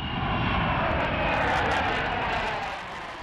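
A jumbo carrier jet carrying Space Shuttle Endeavour takes off from Edwards Air Force Base, a loud, steady, broad engine roar that swells slightly and then starts to fade, with no voices.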